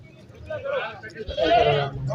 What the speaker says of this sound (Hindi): ये दूध वाली बकरी है